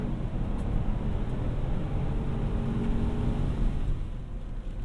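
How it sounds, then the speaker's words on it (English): A 2021 Chevy Trailblazer's engine accelerates at full throttle as a steady, loud low-pitched roar with road rumble, heard from inside the car with no talk. "Full throttle."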